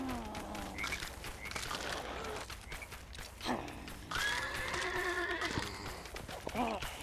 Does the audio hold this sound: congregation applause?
no